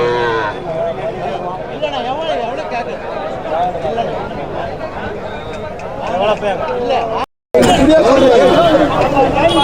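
Cattle at a busy cattle market, with cows mooing repeatedly amid loud chatter and babble from many people nearby. A short gap breaks the sound near the end.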